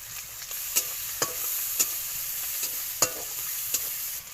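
Green chilli going into a pan of cabbage frying with shrimp, giving a steady sizzle with a few sharp stirring clicks and scrapes of the spatula, close and moderately loud.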